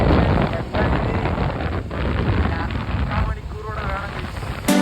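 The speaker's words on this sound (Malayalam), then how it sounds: "ഭയങ്കര കാറ്റുണ്ട്." Strong wind buffets the microphone during an outdoor ride, a loud, continuous roaring rumble that covers the whole stretch with only brief dips.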